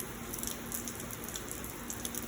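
Rain falls hard during a thunderstorm as a constant even wash of noise, dotted with small pattering drop hits nearby and no thunder heard.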